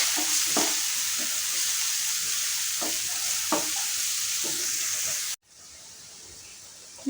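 Spices with a spoonful of turmeric sauté in a pan, making a bright, dense sizzle with regular scraping stir strokes; the sizzle drops abruptly near the end and then resumes more quietly.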